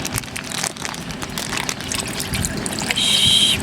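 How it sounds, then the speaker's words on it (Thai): Water is poured into a cooking pot at a campsite, a steady splashing gush that grows fuller toward the end, loud and close, with no talk over it. "เทน้ำเลย"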